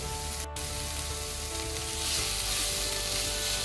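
Green beans and broccoli stir-frying for fried rice, a steady, close sizzle that swells slightly midway, with no talking.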